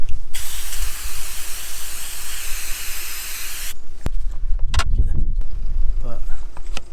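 An aerosol spray can sprays paint on a car, a long, loud, steady hiss that cuts off abruptly, followed by quieter clunks and handling sounds.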